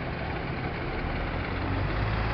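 A concrete mixer truck idles at a shopping centre construction site, giving a low, steady diesel rumble, moderately distant and unbroken, with no talk over it.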